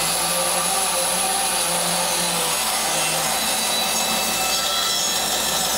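A saw cuts a curve through wood, producing a loud continuous rasping drone that holds steady throughout, with no talking.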